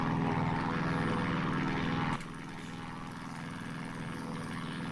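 The engine of a Christen Eagle II aerobatic biplane drones loud and steady in the DCS flight simulator, then drops suddenly to a lower, quieter hum that continues to the end.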